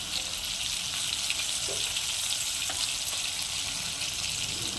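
Ginger paste frying in a pan for a green banana kofta curry: an even, moderately quiet sizzle and hiss that carries on steadily with a couple of faint knocks, no speech.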